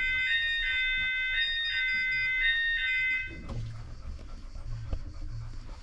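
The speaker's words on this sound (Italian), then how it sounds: "Ah, che allarme strano." A strange electronic alarm on a Hölzl cable car between Passo del Lupo and Pian Cavallaro at Sestola beeps in repeated bright tone bursts for about three seconds, then stops, leaving cabin rumble, soft movement noise and quiet voices.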